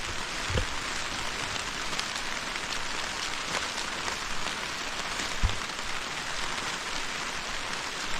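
Heavy rain pours steadily over an eggplant planting field, a dense continuous hiss of drops with a couple of sharper thuds, loud and close with no talking.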